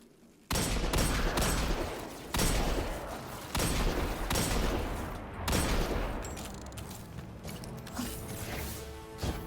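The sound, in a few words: Threaded Needle weapon firing in Destiny video game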